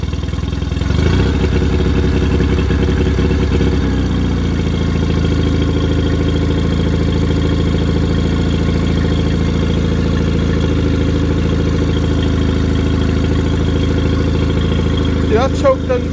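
A Mercury 20 HP outboard motor starts and runs, a loud nearby engine that catches early and settles into a steady, throbbing idle with clattering mechanical tone, while people talk over it.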